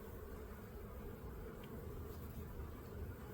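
Honeybees buzz steadily around an open hive during a spring check, forming a faint, continuous hum close to the listener with no talk.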